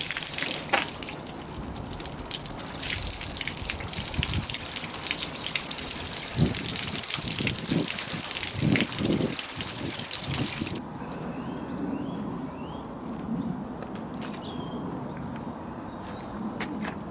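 Water gushes steadily over a dMAX during a wash, a loud continuous spray that eases into a softer, lighter flow for the last few seconds.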